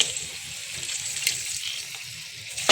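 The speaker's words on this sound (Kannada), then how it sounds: "ಸ್ವಲ್ಪ ನೀರು ಕಮ್ಮಿ ಆಯಿತು, ನಾನು ಇನ್ನೊಂದು ಸ್ವಲ್ಪ ನೀರು ಹಾಕೋತೀನಿ" Water poured into a cooking pot of pineapple pieces for pineapple sambar, a close, continuous splashing pour lasting the whole stretch.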